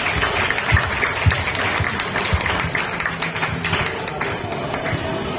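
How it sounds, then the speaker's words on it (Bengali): An audience at a Zero Waste and circular-economy school event in Shyamnagar claps together, dense, even applause sustained throughout at close range. "আপনাদের সকলকে রিকোয়েস্ট করব আপনাদের সবাইকে অভিনন্দন জানার জন্য একটা হাততালি দেওয়ার"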